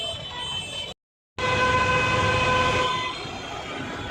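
A metro rail train passes overhead at Mirpur 10 with a loud, steady rumble and a sustained tonal whine riding on top; the sound cuts out briefly before returning at full strength.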